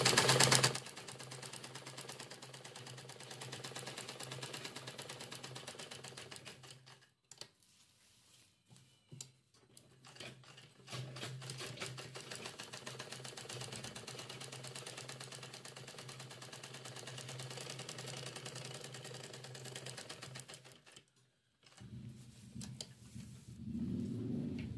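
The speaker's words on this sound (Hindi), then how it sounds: "हम ये इस तरह से यहाँ से सिलाई करके इसको अटैच कर देंगे" Sewing machine stitching a strap onto a homemade travel bag, a fairly quiet steady mechanical whirr in long runs broken by brief pauses, with a small thump near the start and a louder clatter at the end, no voices.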